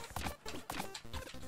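Donkey hooves clopping in the video game Relic Hunters Zero, a quick run of hollow clip-clop hits in uneven bursts, fairly quiet and close.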